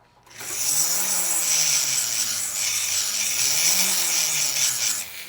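A barrel burr in a rotary tool files the inside of a sand-cast six-prong ring, giving a steady, close, high-pitched grinding whine that holds for several seconds without talk.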